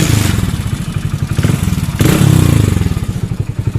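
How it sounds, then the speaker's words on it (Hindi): A Hero HF Deluxe BS6 motorcycle engine idles loudly and close up with a rapid, even mechanical clatter from a noisy timing chain, a steady rattling beat that swells briefly midway. "तो यहाँ पर देखिए इसके अंदर से कितनी साउंड्स आ रही है इंजन के अंदर से"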